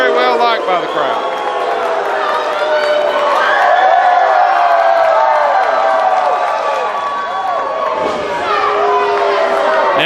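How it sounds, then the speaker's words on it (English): Wrestling arena crowd giving a sustained ovation for a female wrestler, a loud continuous roar of cheering and chatter with some clapping, steady throughout. "Amber O'Neal gets a nice ovation."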